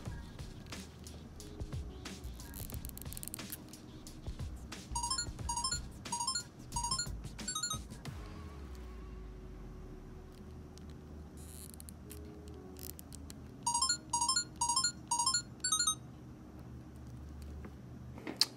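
A Casio G-Shock GM-100 watch plays its short beeping melody tone twice, first at loud volume and then at soft, each a quick run of high electronic pips over background room noise and handling sounds.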